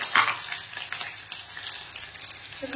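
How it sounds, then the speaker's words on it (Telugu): Cumin and mustard seeds fry in oil, sizzling and crackling steadily, with a brief louder pop near the start and a faint clink at the end. "జీలకర్ర, ఆవాలు వేసుకొని ఫ్రై చేసుకోవాలి"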